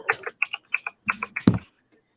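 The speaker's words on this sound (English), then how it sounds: "I got a mechanical keyboard." Fingers type on a mechanical computer keyboard at close range, producing about a dozen crisp clicks in a quick, uneven rhythm that ends with a heavier keystroke.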